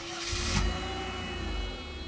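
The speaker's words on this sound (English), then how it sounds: "Just listen how well it idles." A Mercedes 300E's M103 engine idles steadily, a smooth low hum with a faint mechanical whine and a short rise in the first half second, close and without talk.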